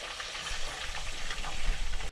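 Smyrna-style meatballs (soutzoukakia) frying in a pan, a close, loud, crackling sizzle that swells and fluctuates before cutting off abruptly at the end.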